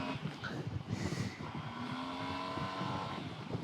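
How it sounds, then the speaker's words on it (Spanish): Yamaha TMax 2022 scooter with its twin-cylinder engine, a steady, fairly loud engine drone with a low, throaty rumble running continuously throughout. "Sigue siendo ese sonido bonito de bicilíndrico"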